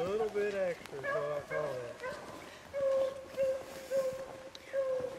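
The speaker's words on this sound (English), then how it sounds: "hear that one dog that just keeps getting it and getting it, Ron? You think she's barking off a little bit?" Beagle hounds bay and bark repeatedly in a series of drawn-out, tonal yelps at moderate distance, while people talk over them.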